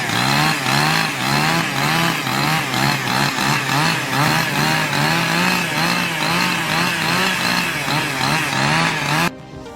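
A chainsaw cuts through a giant tree in a forest, its engine roaring steadily and loudly up close for several seconds before cutting off abruptly near the end.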